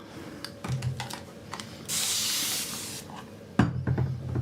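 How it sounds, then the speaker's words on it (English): A spray bottle mists water over an acrylic painting of a floral teapot with zinnias, giving one steady hiss of about a second between quieter brush and handling noises nearby. "I'm not spraying often enough if everything's drying out on me"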